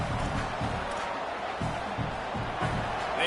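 Stadium crowd roar in the College Football 27 video game, Indiana at Clemson, a steady dense wash of fans with rhythmic low thumps pulsing through it, held at an even level throughout.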